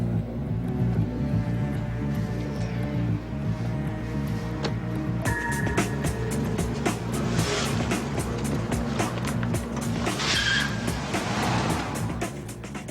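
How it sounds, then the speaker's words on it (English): A car's engine rumbles steadily while it is driven away to be parked, with low drone throughout and scattered clicks and knocks over it, no voices. "I'll park it for you here because we're just moving some cars around."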